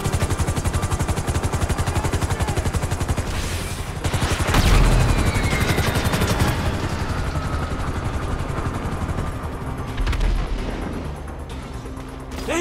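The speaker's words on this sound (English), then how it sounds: "They got a chopper on us!" In the video game GTA 5, a police helicopter thumps steadily overhead during a heist escape while rapid machine-gun bursts and heavy gunshots crackle throughout, loud and dense with no talking.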